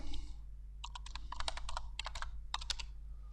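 Someone types a new password on a computer keyboard during a blog installation: a close run of quick, crisp key clicks in short bursts with brief pauses, with no talking.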